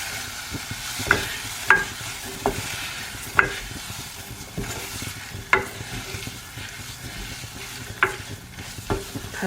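A spoon stirs korma-spiced prawn pilaf in a pan, with soft sizzling under irregular scraping strokes and clinks against the pan, no voices.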